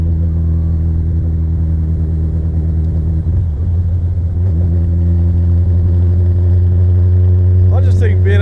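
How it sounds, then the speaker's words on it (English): A Suzuki Hayabusa-engined road-going racecar drones loudly at a steady cruise, its deep engine rumble dipping briefly before building again, with a sharp high rev rising at the end. "Driving to work in a Suzuki Hayabusa powered sports car, race car"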